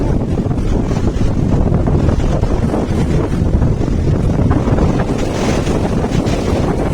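Sea waves wash onto a beach near Puri, Odisha, a dense continuous roar of surf mixed with heavy wind buffeting, loud and unbroken throughout.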